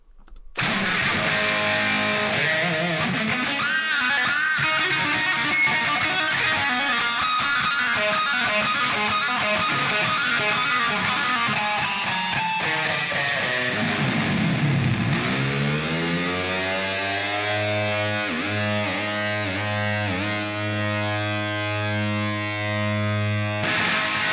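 Heavily distorted electric guitar amp tone playing a continuous riff, loud and close, with chugging low notes and sustained bends, no talking.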